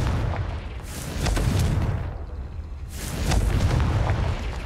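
Two heavy, rumbling magical blasts from a fire-type Confringo spell in the Hogwarts Legacy video game, each a broad roaring burst that swells and fades, separated by a brief lull; no voices.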